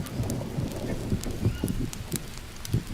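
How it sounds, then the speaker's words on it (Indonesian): Rain falls in the Amazon jungle survival game Green Hell, a steady hiss of drops with scattered louder patters, close and continuous, with no one speaking. "Ya hujan deh."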